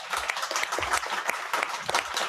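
A round of applause from the audience at a book launch event in Toronto, honouring the organizers: dense, steady clapping from a modest crowd, close and continuous for a couple of seconds with no voices over it.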